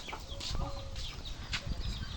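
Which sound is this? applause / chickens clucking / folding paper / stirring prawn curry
chickens clucking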